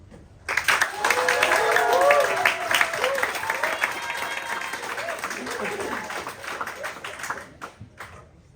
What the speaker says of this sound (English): give their first round of applause so that they will just get the energy